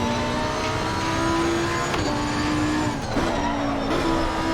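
Race car tires squeal and skid under braking lockup in Assetto Corsa Competizione, a steady pitched tire howl bending in tone over a continuous loud engine drone, with no voices.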